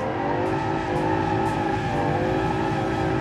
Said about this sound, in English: the brakes are just screaming and crying for help